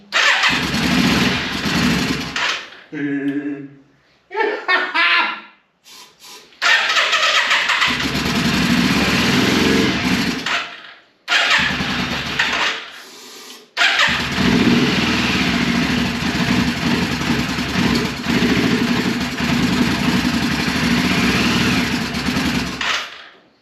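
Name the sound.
1995 Yamaha Virago 535 motorcycle engine starting and running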